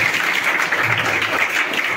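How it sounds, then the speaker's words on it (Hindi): Audience at a prize distribution ceremony for Success Classes keeps clapping as winners come on stage, a continuous, fairly loud crackle of many hands with no pauses. "तो आप लोग तालियां बजाते रहिए।"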